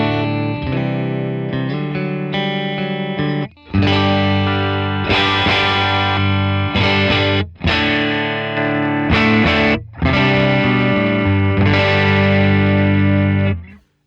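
Electric guitar with a split, tapped humbucker, played through a REVV D40 amp in driven, effected chords and sustained phrases, loud and continuous with short gaps between strummed passages.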